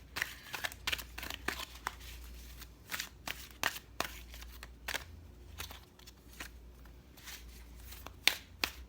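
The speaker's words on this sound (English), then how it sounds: "You guys know I shuffle a lot," Cards being shuffled in quick riffling bursts, crisp flutters and snaps repeating close by with short pauses between, no talking.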